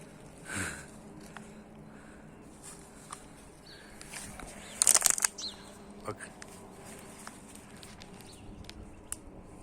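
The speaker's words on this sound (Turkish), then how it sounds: "Şöyle bayağı kuş var ama" A sudden flurry of flapping wings from a flock of birds in a village whirs up midway through, amid quiet outdoor ambience, soft scattered rustles and a faint sniff.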